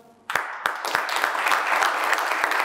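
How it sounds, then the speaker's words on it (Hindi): A group at a yoga and pranayama breathing session claps for itself, beginning with a few separate sharp claps and quickly building into steady, close applause that continues to the end. "अपने लिए ताली बजाओ।"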